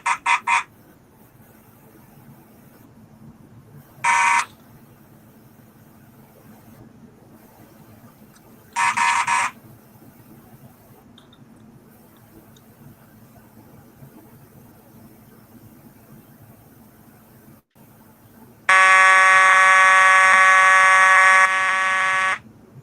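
Several carbon monoxide alarms go off together in loud, piercing electronic beeps, short bursts at first and then one sustained shrill stretch, with quiet gaps of room hum between them.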